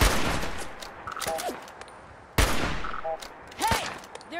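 Gunfire in Fallout 4: two loud sharp shots roughly two seconds apart, each trailing into rattling echoes, with short electronic bleeps and whistling game effects in between, no talk.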